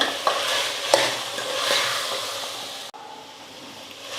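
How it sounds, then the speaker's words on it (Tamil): Potatoes and peas sizzle and fry in a pan while being stirred, with a steady crackling hiss and a few scraping knocks. "ஒரு நிமிஷத்துக்கு நல்லா வதக்கிக்கிட்டேன்"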